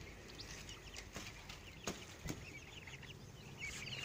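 Young chicks hatched from eggs and raised without a parent peep and chirp in a pen, a steady high twittering with a couple of soft thumps, no voices.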